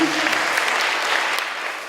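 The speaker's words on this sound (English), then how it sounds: "Let's give them a nice round of applause" An audience at a spring school band concert applauds fourth and fifth grade band students, loud sustained clapping that holds steady and eases slightly at the close.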